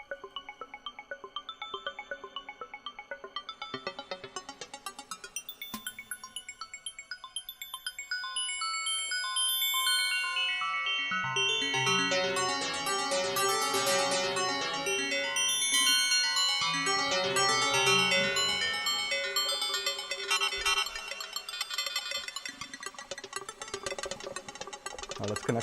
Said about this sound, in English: It's a stutter glitch effect.